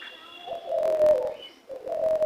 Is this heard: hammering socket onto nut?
no